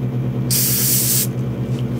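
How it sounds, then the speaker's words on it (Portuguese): Spray paint hisses steadily from a can onto a 1/72 Italeri Dassault Mirage 2000 model aircraft, one continuous close burst of about three quarters of a second over a low background hum. "Aqui eu vou fazer um pouco mais com spray"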